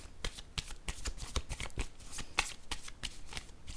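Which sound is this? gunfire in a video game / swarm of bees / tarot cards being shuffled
tarot cards being shuffled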